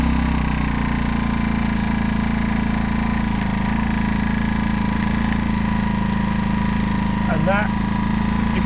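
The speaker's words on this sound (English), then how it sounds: "So it's not a whisper generator, but it's quiet enough to talk over." An AIVOLT 1200W petrol inverter generator idles with a steady, loud, close engine drone and low hum throughout. A voice talks over the running engine.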